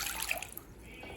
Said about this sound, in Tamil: இப்போ அடுத்தது இதில் 1/2 கப் தண்ணி சேர்த்துக்கலாங்க